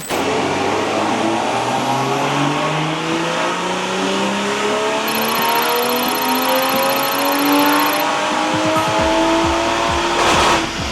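A BMW 3 or 4 Series G-Series engine revs hard through rising gears, exhaust roaring loudly and close, ending with a burst of crackles as the throttle lifts.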